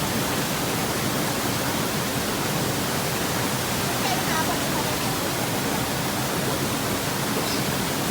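Rushing water of Ngong Sham Stream in Hong Kong, a steady, loud broadband roar filling the whole clip, with faint voices barely audible beneath it.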